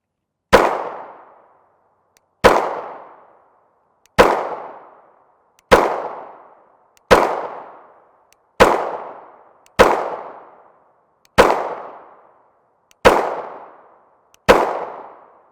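A Dagger pistol fires 9x19mm NATO 115gr FMJ CBC rounds: ten sharp, loud single shots at a steady pace of roughly one every one and a half seconds, each trailing off in a short echo.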